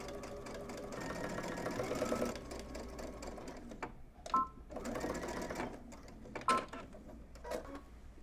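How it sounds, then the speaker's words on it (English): A sewing machine runs a line of stitching along a fly facing on a garment, a quiet steady mechanical whir in short runs broken by pauses and a few clicks. "instead of basting this time, we're going to stitch and follow that basting stitch all the way until we get to the bottom"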